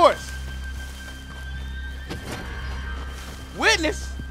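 A horse in the Red Dead Redemption 2 video game gives a sharp whinny near the start and a second loud neigh near the end, with hoof clip-clops and a low game background hum between them.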